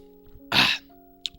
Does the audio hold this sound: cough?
yes